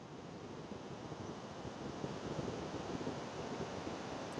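Water rushing out of a canal outlet at a dam near Jeypur, Koraput, a steady broadband roar that holds constant and grows slightly stronger partway through, with no voices.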